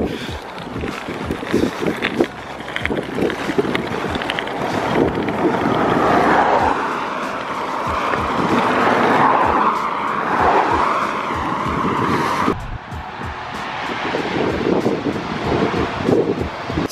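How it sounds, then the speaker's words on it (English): Strong, steady wind roars across the microphone while bicycle touring in Australia, with gusty buffeting throughout, broadband and loud, with no voices. "So windy"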